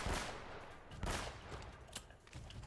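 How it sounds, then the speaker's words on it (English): Gunfire in Uncharted: Drake's Fortune as enemies are shot from a distance, with dense overlapping shots and bursts forming a loud, continuous fusillade across the whole stretch, no talking. "We can just shoot them from afar."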